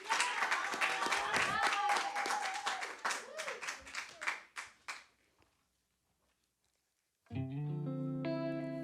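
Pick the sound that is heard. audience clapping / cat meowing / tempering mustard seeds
audience clapping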